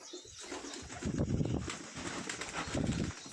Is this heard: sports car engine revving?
no